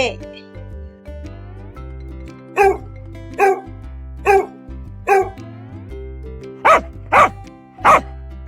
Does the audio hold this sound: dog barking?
yes